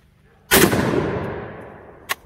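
A single close, loud rifle shot in .450 Bushmaster from an Anderson Hell Fire lower fitted with a Bear Creek Arsenal upper. The sharp crack decays into a long echo, and a smaller click or clank follows about a second and a half later.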